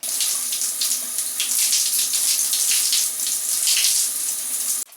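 Running water rinses a Briogeo Superfoods Kiwi Avocado hair mask out of hair, a loud, steady, close gush of tap water that holds for several seconds and then abruptly cuts off.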